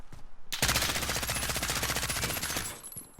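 Suppressed M13 rifle in Call of Duty Modern Warfare firing a rapid, steady automatic burst of about two seconds, loud and close, with clipped, evenly spaced shots.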